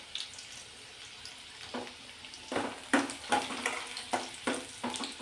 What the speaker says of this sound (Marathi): लसूण लालसर होईपर्यंत परतून घेऊ.